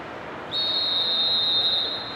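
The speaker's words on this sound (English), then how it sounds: "The referee's whistle blows for the start of the second half." A referee's whistle in the PES 6 football video game blows one long, steady, shrill note, starting sharply and holding for well over a second above low crowd ambience.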